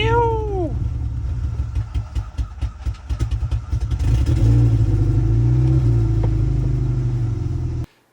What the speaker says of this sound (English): I got that first turn today of the engine, turning it over and letting it run.